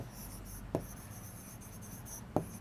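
Pen or marker writing on a board during a chemistry lesson, a steady scratchy stroke sound with two sharp taps, close and moderately loud over a faint background hum.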